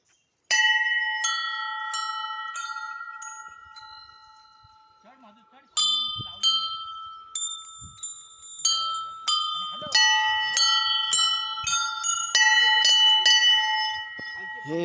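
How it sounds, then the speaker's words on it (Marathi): A metal bell is rung again and again, each bright ringing strike hanging and fading before the next, in uneven bursts with voices in the background. "ये घंटी वाजव."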